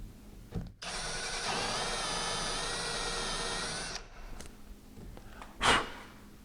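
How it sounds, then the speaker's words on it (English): Power drill boring a latch hole in a pocket door, one steady whining run of about three seconds at close range, with brief handling knocks before and after. "So I'm going to drill this hole."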